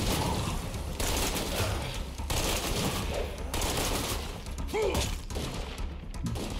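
Dense, rapid gunfire from a follower shooting zombies in State of Decay 2, a sustained fusillade with bursts separated by brief gaps, loud and close in game audio.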